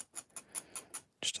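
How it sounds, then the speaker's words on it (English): Short, rhythmic scraping strokes shaving fuzz off glued model house parts, about six quick close scrapes at an even pace and then a slightly louder cluster, faint overall with no talk. "Apologies for the scraping noise."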